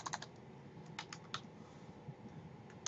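Someone types a name on a computer keyboard with quiet, irregular key clicks in short bursts and pauses, close by in a silent room.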